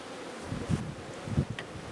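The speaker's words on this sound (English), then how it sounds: "we'll just shake a few bees in from the supers" Honey bees buzzing as they are shaken from hive supers, a steady close drone with a couple of soft thumps and rustles.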